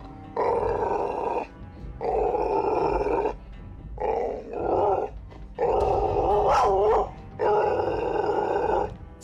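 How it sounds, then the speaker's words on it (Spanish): A dog growls in several long, rumbling bursts separated by short pauses, close and fairly loud, with one rising, whiny growl in the middle. "pues Nova mira hacia varias direcciones mientras le gruñe a la nada"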